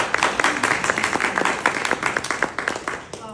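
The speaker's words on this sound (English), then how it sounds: "Let's give our guests a round of applause" A modest audience gives the guests a round of applause at an evening event; individual claps stand out in a brisk, uneven rhythm, close and fairly loud, tapering slightly toward the end.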